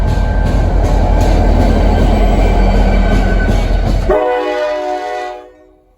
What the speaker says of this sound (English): Noisy horn.